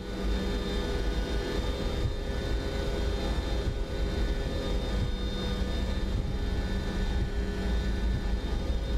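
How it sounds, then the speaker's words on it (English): Engines of a Boeing 727-200F cargo jet in the MSFS 2024 flight simulator, spooled up toward takeoff power: a steady, loud jet roar with a constant whine and hum held throughout. "I'm just going to go and set takeoff power"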